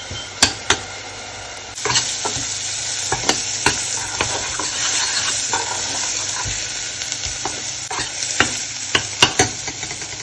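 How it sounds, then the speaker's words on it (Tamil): Onions frying in sesame oil with fennel and mustard seeds for a Tamil fenugreek kuzhambu, a constant loud sizzle broken by sharp clicks of a utensil stirring the pan, with no speech. "வெங்காயம் பொன்னிறமாக வெந்துடுது"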